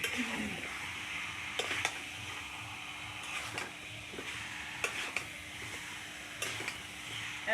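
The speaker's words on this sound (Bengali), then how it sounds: "এখন ভালো করে আমি নাড়াচাড়া করে কষিয়ে নেব" Potatoes sizzle in a pan of chicken curry under a steady, soft frying hiss, with occasional sharp scrapes and knocks from a spoon stirring the pan.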